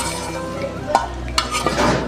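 Bell peppers tossed and stirred into spaghetti in a pan, a short stretch of soft scraping and stirring with a few utensil clinks against the pan and faint sizzle beneath.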